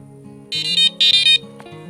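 A Hirisi S5 fishing bite alarm beeps loudly and close in two quick bursts of high-pitched tones over a steady lower electronic hum.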